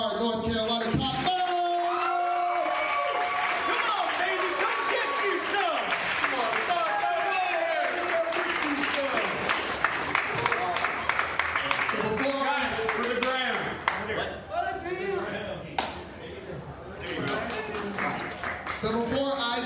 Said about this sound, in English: One more round of applause for our North Carolina top 5